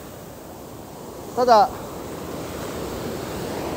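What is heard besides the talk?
ocean waves breaking on a surf beach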